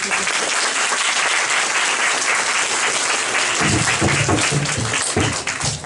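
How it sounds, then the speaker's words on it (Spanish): A university lecture audience gives steady applause during a plaque presentation, a dense, sustained clatter of many hands with some voices and lower murmurs emerging in the second half. "Palmas, por favor."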